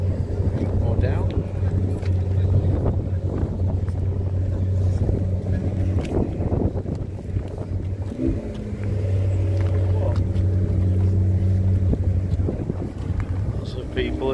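A McLaren Senna supercar idles and pulls away at a busy supercars and coffee meet, its low engine drone steady beneath wind buffeting and nearby chatter, briefly dipping midway before resuming.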